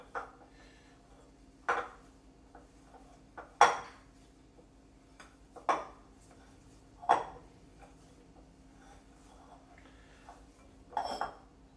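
Sausage mushroom stuffing with chipotle spice being mixed in a bowl, producing a series of sharp clinks and scrapes of utensil against the dish, spaced every couple of seconds over a quiet background with no talk.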